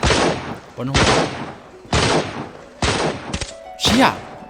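Gunfire in Arena Breakout: five loud, close bursts of shots at roughly one-second intervals, each with a sharp crack and a booming tail, the last one followed by a ringing metallic echo.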